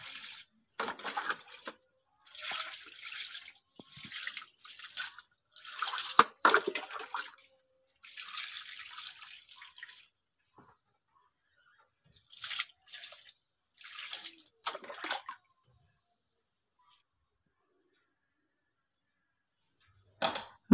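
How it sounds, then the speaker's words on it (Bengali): Fish being rinsed under a running tap in a home kitchen while preparing a Bengali fish curry; bursts of splashing water come and go in several separate runs, close and fairly loud, with pauses of silence between them. "মাছগুলোকে এবার আমি ভালো করে ধুয়ে নেব।"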